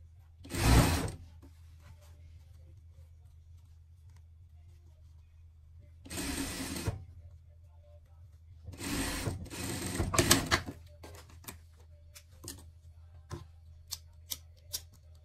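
A sewing machine stitching fabric seams together on a pet dress, heard as several short bursts of rapid mechanical whirring separated by quiet pauses, followed by a few isolated ticks.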